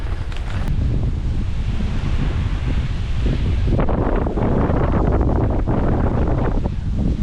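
A strong crosswind buffets a cyclist bikepacking the Eurovelo 1 route through Spain, a loud, steady roar of wind with surging gusts throughout and no talking.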